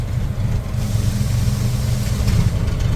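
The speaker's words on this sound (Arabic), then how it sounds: "ده صوت الشكمان" A car engine with a misfiring, rough-running motor runs unevenly with a low, rumbling exhaust drone, steady and close, with a rough, uneven pulse throughout.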